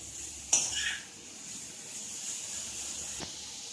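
Vegetables for spring roll filling are stir-fried in a pan: faint, low scraping and stirring with two light metallic clinks of a utensil against the pan, no talk.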